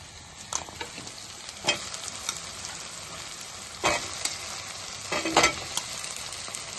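Potato pieces fry in hot oil with softened tomato for an aloo methi masala curry, a soft steady sizzle broken by several scraping stirs of a spoon in the pan.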